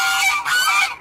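Two loud, nasal goose honks come in quick succession from close by, each harsh and brassy, in a farmyard where geese wander among the poultry.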